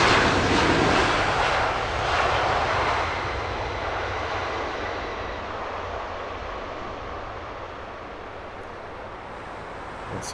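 A jet airliner passes at Heathrow Airport, its broad engine roar loud at first and then slowly fading into a steady distant rumble as it moves away, with no talk.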